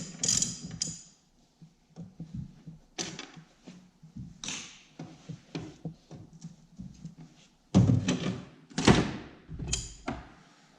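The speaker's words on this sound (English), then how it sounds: "take this chain case off." Tools work on a snowmobile chain case as it is taken off, close metallic ratcheting, clanks and scraping in irregular bursts with quiet gaps between them, loudest near the end.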